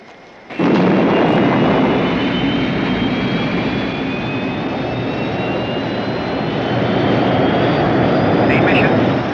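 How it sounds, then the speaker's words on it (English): Spacecraft engines roar at liftoff in a Space: 1999 scene, a loud, steady, broadband rumble that starts abruptly and holds for several seconds with a faint rising whine on top. "We have liftoff."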